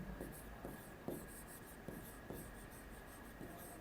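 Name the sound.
writing on a board during a lecture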